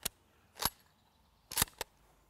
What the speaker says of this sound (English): Shoot the log off the top of the other one.